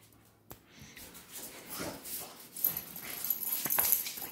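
A puppy playing with a rope toy whimpers and yips in short, soft bursts, with some rustling movement nearby and no speech.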